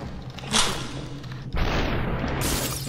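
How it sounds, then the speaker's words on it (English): Gunfire in the video game SUPERHOT: two sharp, booming shots half a second and about a second apart, each followed by a sustained rushing burst of noise, with no talking. "you gotta think about bullet travel time. And you gotta shoot them."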